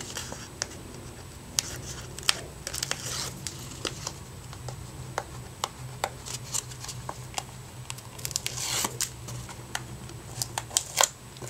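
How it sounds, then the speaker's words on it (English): Tape peeled by hand off a chipboard mini album, a quiet run of small sticky rips and crackling taps scattered irregularly across the clip, close up with no talking. "So I'm going to take off all this tape."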